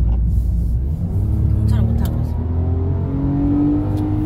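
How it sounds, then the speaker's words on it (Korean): A speed-limited car-sharing car's engine drones and climbs in pitch as it accelerates, heard from inside the cabin with a voice talking over it. "소카 어린애들이 타고 사고 나서 속도 제한 걸어둔 것 같은데 그래서 엔진도 소리 이상한 거고."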